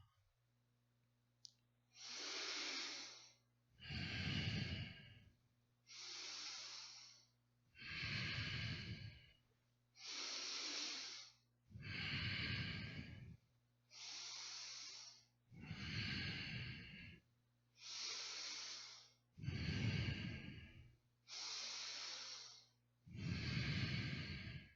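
Deep, slow breathing during a breathing exercise, with about a dozen long, loud, close breaths alternating between airy inhales and deeper, rougher exhales at a steady pace.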